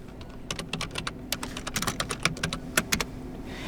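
Computer keyboard keys clatter in an irregular run of crisp, close clicks for a few seconds, steady and unaccompanied by speech.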